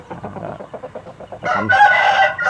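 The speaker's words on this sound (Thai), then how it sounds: "ไก่งอนรูผมก็เลี้ยงเหมือนกัน" A Thai Ngon Ru rooster lets out one loud, close crow in the last second, after a stretch of softer, broken clucking sounds.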